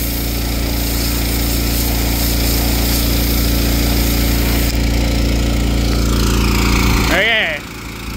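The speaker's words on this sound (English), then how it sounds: "this power washer doesn't really have a lot of pressure right now" A petrol pressure washer on a dairy farm runs steadily at full throttle with a loud, continuous engine drone, up close, until a short squealing burst near the end.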